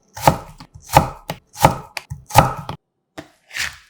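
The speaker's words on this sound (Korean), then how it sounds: "같은 두께로 무 채 썰듯이 채 썰어주세요" A knife cuts kohlrabi slices about 0.4 cm thick into matchsticks on a cutting board. Four evenly spaced, crisp chops land close by, followed by a fainter final cut, with no voices.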